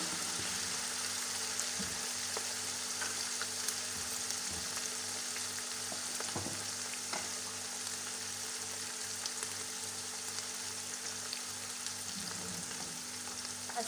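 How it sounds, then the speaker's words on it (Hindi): Ingredients for Chinese chicken rice fry to light brown in a pan, giving a loud, dense, continuous sizzle with occasional stirring scrapes. No one speaks over the sound. "एक बार मतलब थोड़ा सा इसे लाइट ब्राउन करेंगे।"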